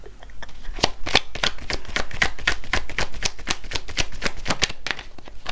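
A deck of cards being shuffled by hand, a quick run of about a dozen and a half crisp riffling bursts in steady rhythm, close and clear with no talking.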